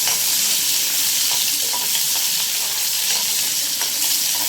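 Chopped onions and two dried red chillies fry in a hot pan for an agathi keerai dish, giving a steady, close crackling sizzle with occasional sharper pops.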